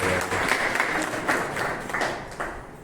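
Scattered, uneven clapping at a memorial day public ceremony as a guest is welcomed, a modest crowd whose claps come in loose bursts and thin out toward the end.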